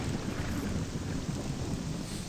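Steady heavy rain with rolling thunder in the video game Morrowind, a dense, continuous broadband roar that holds evenly throughout with a low rumble underneath and no voices.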